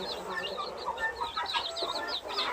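Broody hens cluck softly while a brood of roughly eighty chicks cheeps steadily in an enclosure, a continuous chorus of small, close chirps.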